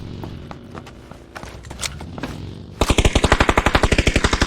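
Gunfire plays out in the battle royale game PUBG, with scattered distant shots early on giving way to a loud, rapid, evenly spaced burst of automatic fire up close.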